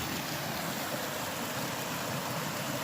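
A mountain creek flowing beside a campsite in a national forest canyon, a steady, even rush of water like broadband white noise, constant and unbroken throughout.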